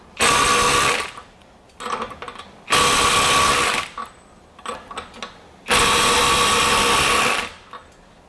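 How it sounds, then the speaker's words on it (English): Ryobi One+ HP compact impact driver breaking away fasteners at 100 foot-pounds, three loud sustained bursts of rapid hammering whir, each about a second long, separated by short gaps with softer clicks and handling noise. "So 5 in a row at 100 foot-pounds."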